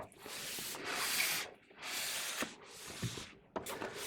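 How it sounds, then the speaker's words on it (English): Cardboard and plastic packaging from a Bachmann Class 47 model locomotive box rustles and slides in long scraping sweeps, with a few soft knocks between them, close and fairly quiet. "let's open up the box and we'll see what we've got in here."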